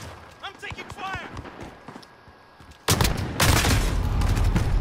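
Gunfire in the video game Call of Duty Modern Warfare, a loud dense burst of rapid shots erupting after a quieter stretch of footsteps and game sounds, with a voice speaking early on.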